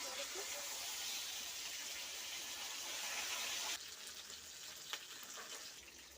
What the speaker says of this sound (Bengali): টকের মাছ তাই বেশি কড়া করে ভাজবো না হালকা করে ভেজে নিচ্ছি